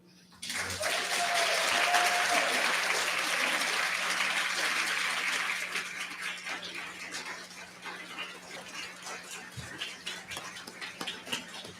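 An audience at a writers' association awards ceremony applauds, a dense, loud wash of clapping that stays strong for several seconds and then thins out gradually toward the end.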